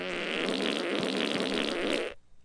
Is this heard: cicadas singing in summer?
no